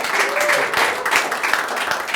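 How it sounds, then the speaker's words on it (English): A crowd at a magic show gives a burst of applause, close and loud throughout, with a voice briefly speaking over the clapping. "Give Lavina a huge round of applause."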